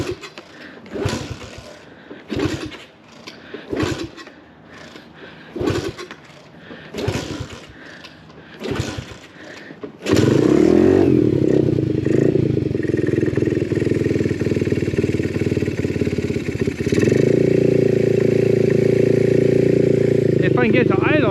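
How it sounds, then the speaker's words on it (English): An Orion RXB pit bike engine is kicked over several times in a rhythmic series of cranking bursts, then catches and runs loudly close by with a steady, slightly rough idle and brief revs, and someone talks over parts of it. "If I can get to idle, I can start trying to tune the carb."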